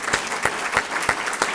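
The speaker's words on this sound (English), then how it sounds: "can we just give them a round of applause?" A crowd claps during a presidential update at a university Parent & Family Weekend. The applause is close and lively, with faintly pulsing, near-rhythmic bursts throughout.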